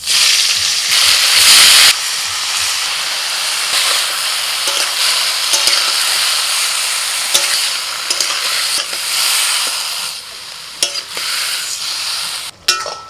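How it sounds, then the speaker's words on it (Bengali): Mushrooms frying in a pan (kadai) while being stirred, a steady close sizzle with scraping clicks and knocks of the utensil throughout, louder bursts near the start and end, no voices. "এবার মাশরুমগুলোকেও হালকা করে ভেজে নেবো"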